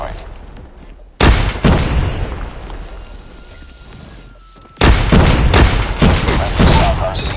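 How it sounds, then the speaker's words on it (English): Explosions in Call of Duty as a Shock RC drone is destroyed: two loud, booming blasts with sudden onsets, each followed by a long rumbling tail of crackling debris and echo. "Friendly Shock RC has been destroyed."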